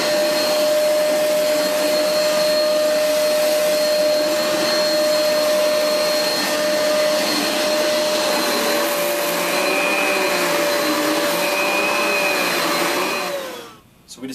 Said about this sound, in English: So we discussed how the vacuum cleans on carpeting.